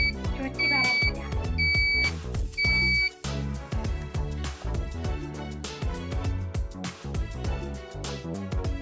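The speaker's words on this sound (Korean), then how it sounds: "원룸의 현재 온도는 19도이며 저온경보입니다" A Taejin Tech MC-1012NS temperature alarm sounds a low-temperature warning: three short, bright two-tone beeps in quick succession over loud background music, then the music continues alone.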